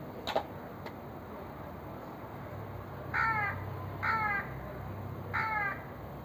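A crow caws three times in a row, each call a short burst spaced about a second apart. The calls are clear and moderately close over a quiet background, with no voices.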